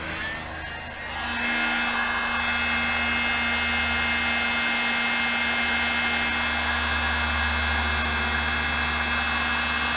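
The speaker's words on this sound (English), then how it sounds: "Get the old hairdryer." A hairdryer blows with a steady whirring hum and airy rush, switching up to full power after a second and running continuously, heating shrink tubing on wiring.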